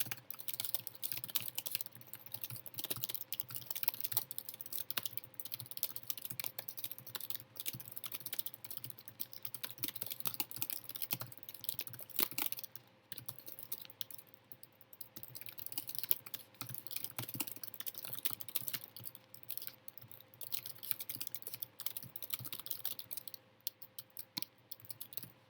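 Fast, steady typing on a computer keyboard during a Nitro Type race, dense clicky keystrokes in quick bursts with brief pauses, close and fairly quiet, no voices.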